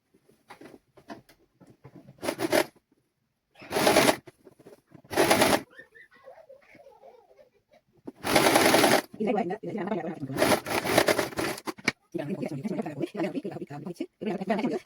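A sewing machine stitches two fabric pieces together for a child's sun suit, running in several short loud bursts separated by quieter gaps where a person talks.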